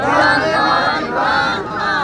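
A crowd of PTI supporters holding up Khan's picture chants slogans in unison, a loud, rhythmic mass of voices rising and falling in waves over two seconds.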